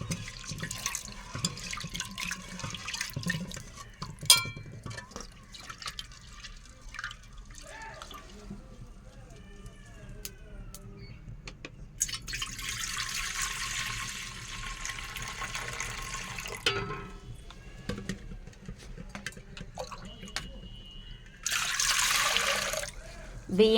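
Tap water runs and splashes as ration-shop dal lentils are rinsed in a vessel at a kitchen sink, with intermittent pouring and trickling, a burst of stronger flow near the end, and someone talking over parts of it.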